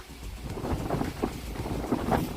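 Wind blows hard into the microphone outdoors, making a continuous, loud, rumbling roar with gusty swells and no speech.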